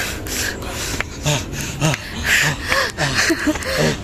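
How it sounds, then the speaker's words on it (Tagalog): Heavy, rapid breathing and gasps close by while hiking up toward a summit, rough and uneven, with faint rustling and scraping underneath. "Hingal naman. Hingal kabayo."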